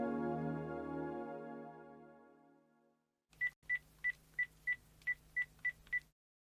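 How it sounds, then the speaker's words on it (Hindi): A telephone number is keyed in as eight or nine evenly spaced short beeps in quick succession. Before them, a lingering sustained tone fades out and is followed by a brief silence. "इस नंबर पे एक फोन तो करा दो भाई"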